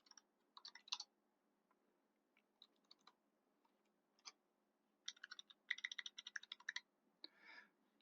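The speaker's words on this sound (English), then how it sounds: "you can go ahead and just type this in" Fingers type a short note on a computer keyboard, quick bursts of soft key clicks with brief pauses between them, close and quiet, with no voices.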